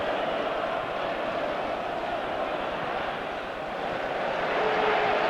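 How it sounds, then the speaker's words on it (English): A football crowd at a League Cup quarter-final between Arsenal and Newcastle United howls in protest at an off-the-ball foul, a loud, sustained roar of many voices holding steady for several seconds and swelling again at the end. "there was a furious howl by the crowd"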